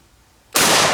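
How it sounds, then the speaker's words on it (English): A single loud rifle shot cracks out halfway through, fired at recycled milk jug and fiberglass armor plates outdoors, following a quiet lead-in. "Holy crap, it actually stopped some rifle rounds"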